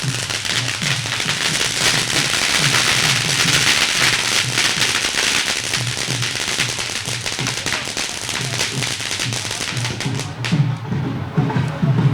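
Firecrackers burst in a dense, continuous volley at an Aam Aadmi Party by-election victory celebration outside the party's Chandigarh office, loud and crackling throughout with a faint murmur of voices underneath.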